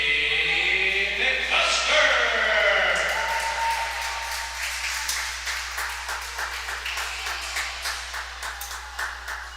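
Spectators at an outdoor youth swim meet clap scattered and moderately loud, the applause thinning into sparse individual claps at a distance, with some cheering early on.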